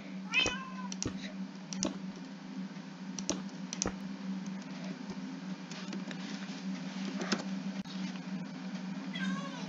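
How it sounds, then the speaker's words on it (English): A cat in a video game gives a few short meows near the start and end, set against an ongoing electrical hum and scattered keyboard and mouse clicks from play. "Kitty cat."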